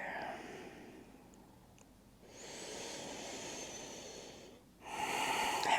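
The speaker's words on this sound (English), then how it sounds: "And then just take a couple of deep breaths here" Quiet, slow deep breathing during a yoga child's pose: long, airy inhales and exhales follow one another close to the microphone, each breath lasting a couple of seconds.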